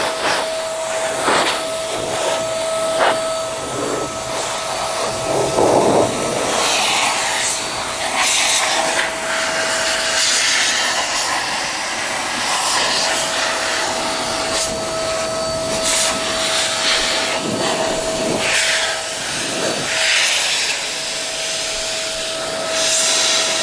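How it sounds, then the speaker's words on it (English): Air blower forcing grit, dirt and pollen out of a car seat toward the carpet, a loud, continuous rushing whine that persists the whole time, close by and alone with no talking. "just blow all of that grittiness, dirt, pollen to the carpet down to the lowest point where I can vac it later"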